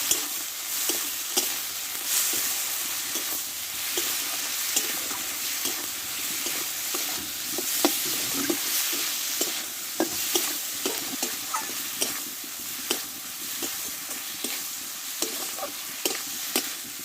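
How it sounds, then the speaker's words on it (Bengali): Spice paste with salt and turmeric being stir-fried in a pan, a continuous sizzle with repeated scraping and tapping of a spatula throughout. "স্বাদ মতো লবণ হলুদ গুঁড়ো পরিমাণ মতো দিয়ে ভালো করে এই মশলাটা কষে নেব"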